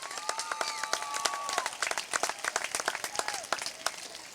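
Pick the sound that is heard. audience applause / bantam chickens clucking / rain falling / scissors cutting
audience applause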